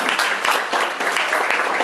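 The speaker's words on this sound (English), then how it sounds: "I think it was a round of applause" A steady round of applause from an audience, dense and continuous throughout, fairly loud with no other sounds standing out.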